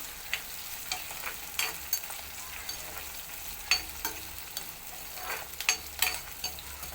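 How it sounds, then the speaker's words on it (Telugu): Curry leaves and semolina with seasoning frying in oil in a pan for an eggplant and chana dal curry, giving a steady soft sizzle broken by sharp crackling pops and spits, heard alone up close. "ఇందులోకి వచ్చేసి రవ్వ కరివేపాకు ఇవన్నీ ఫ్రై చేసుకోవాలండి"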